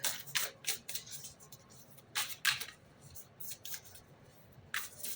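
Short papery riffles and flicks of playing cards being shuffled close by, in irregular quick bursts with quiet gaps between, no talking.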